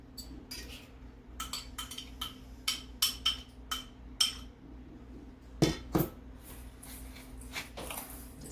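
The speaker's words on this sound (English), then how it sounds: "Mix that up. Get everything nice and moist and mixed up." A spoon knocks and scrapes around a bowl while sugar is mixed into melted unsalted butter for an apple cheesecake, giving a run of sharp irregular clinks with two louder knocks near the end, close by and with no talk.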